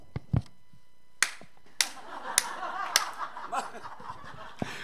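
Hand clapping demonstrated by one person: a few sharp, separate claps ring out in an irregular sequence, close and crisp, with brief pauses between them and a faint murmur in the background.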